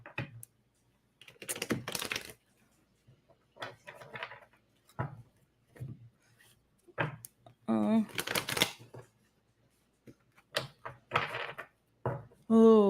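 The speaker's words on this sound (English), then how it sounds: "One shuffle here." Tarot cards are shuffled in a series of short, crisp riffling and slapping bursts separated by pauses, close up, with a voice speaking between some of the bursts.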